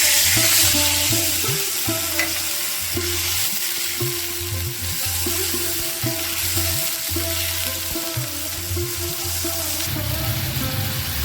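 Batter and spices like cumin and garam masala frying in hot oil for a spiced brinjal pickle dish, a loud, steady, close sizzle with bubbling and occasional stirring throughout.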